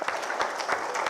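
A brief burst of audience applause at a community gathering, close and fairly loud clapping lasting only about a second.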